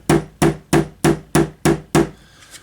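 A hammer taps the corner of a leather handle on a tool chest: seven evenly spaced, sharp knocks close by, then a short quiet tail.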